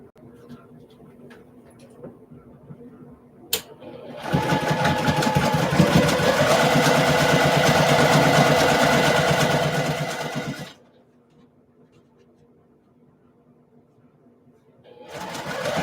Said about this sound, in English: gotta sew the top and the bottom together